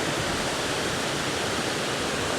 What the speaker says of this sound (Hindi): कितना साफ़ पानी है और ये बहता हुआ नीचे की तरफ जा रहा है